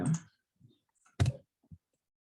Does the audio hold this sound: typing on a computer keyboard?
yes